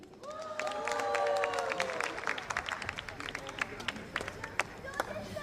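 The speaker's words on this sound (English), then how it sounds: "Your applause to Guruji." Scattered clapping from a crowd with some cheering and a few voices, the claps growing sparser and more irregular toward the end.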